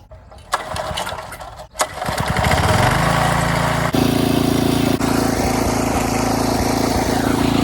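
A small John Deere tillage rig's engine cranks with a couple of turnover bursts, catches and revs up, then settles into a loud, steady, close diesel running rumble.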